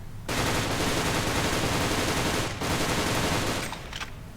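A Happy Snow toy gun fires in controlled bursts of three to four rounds, a dense, loud rattling stream interrupted by a brief pause before resuming, close and alone without talk.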